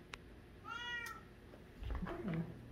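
A house cat meows a single clear, drawn-out call at close range in a quiet room full of smart-home devices, followed by a low soft vocal murmur near the end.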